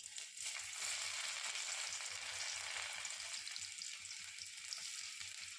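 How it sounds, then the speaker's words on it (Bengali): Chopped garlic sizzling in hot mustard oil with panch phoron in a wok for a dhaba-style egg tadka, a constant close crackling hiss punctuated by regular soft knocks of a spatula stirring, no talking. "এবার রসুন কুচি দিয়ে দেব"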